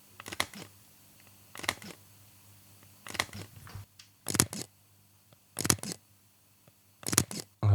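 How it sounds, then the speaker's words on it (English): Leica camera shutter firing, six crisp, quiet mechanical clicks spaced roughly a second or more apart, each a short sharp snap against a low background hum. "so this shutter sound is very satisfying as well."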